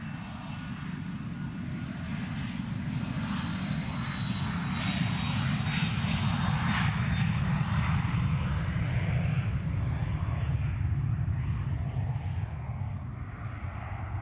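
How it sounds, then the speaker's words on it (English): Embraer Phenom 300 business jet of Luxaviation UK taking off from Luton Airport, a loud steady jet roar with broadband rumble that swells and holds throughout, with faint high whine above, no talk over it. "This one another charter, Lux Aviation UK, Embraer Phenom 300."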